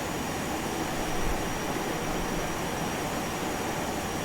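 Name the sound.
FlyJSim 737-200 taking off, X-Plane 11 video game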